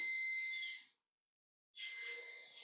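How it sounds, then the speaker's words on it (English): A coffee roaster signals that the beans have cooled with two loud, high electronic beeps, each held for most of a second, separated by a short silence. "The beeping is just to warn me that it's cool"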